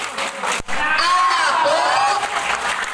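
A group of high-school students on an outing chants the tepuk anak soleh clapping rhyme together, their raised voices loud and close, with a single sharp clap near the start.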